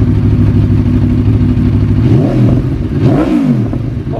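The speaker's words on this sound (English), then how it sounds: "Give it a rev or two." A car engine idling loudly up close, then revved twice in quick succession, each rev rising and falling in pitch above a steady low rumble, used to judge how loud the exhaust is.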